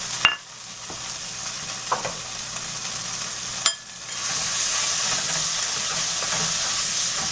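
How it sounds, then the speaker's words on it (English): Masala with roasted cumin seed sautéing in oil for a whole mung bean dal, a steady hissing sizzle that swells louder partway through, with a few sharp utensil knocks, close by. "So I'm just going to saute this one 5 minutes"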